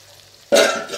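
Lemon pepper chicken roasting in a pan bursts into a sudden loud sizzle midway through, a bright crackling hiss close up after a quiet start.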